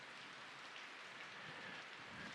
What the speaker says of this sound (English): And the rain which you hear now is the constant watering of it